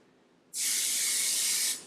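A single short burst of aerosol spray hisses close up for about a second after a quiet moment.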